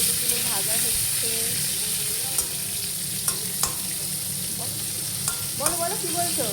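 Cauliflower fries in a pan in a home kitchen, giving a continuous loud sizzle with scattered pops and occasional stirring scrapes, while faint voices talk in the background.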